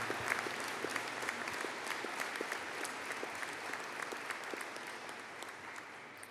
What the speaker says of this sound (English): can I please ask for a collective round of applause for the Bachelor of Science Honours in Software Design Game Development